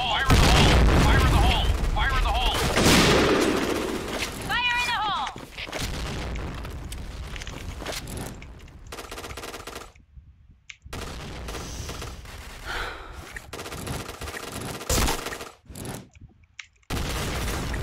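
Gunfire in a video game: a loud barrage of booming shots and bursts up front, then scattered single reports and blasts between quieter gaps, with someone talking intermittently over the action.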